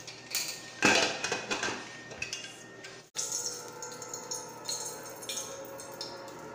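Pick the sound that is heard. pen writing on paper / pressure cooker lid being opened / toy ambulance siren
pressure cooker lid being opened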